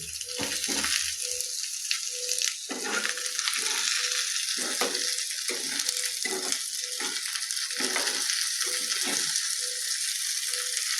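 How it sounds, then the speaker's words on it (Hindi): Bottle gourd (lauki) and small tomatoes fry in a pan over medium heat, giving a continuous close sizzle. Soft repeated scrapes and taps of stirring sound through it. "मध्यमे आंच पर एकरा भुजबाक छै।"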